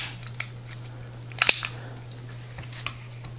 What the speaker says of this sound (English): So it has quite a long trigger pull on the first pull.